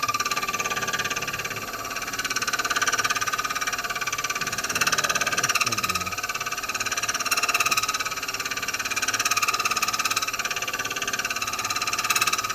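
Lathe tool cutting an uneven brass and ebonite band for a pen cap, a steady continuous machine whir and hum with the tool catching the band only intermittently, no talk.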